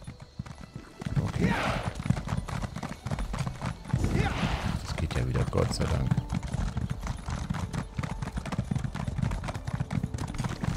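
Horse hooves clip-clop in the Elder Scrolls Online video game, a steady stream of close hoofbeats with a neigh, heard under someone speaking.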